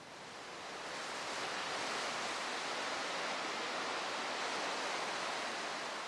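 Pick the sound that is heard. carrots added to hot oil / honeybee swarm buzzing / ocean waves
ocean waves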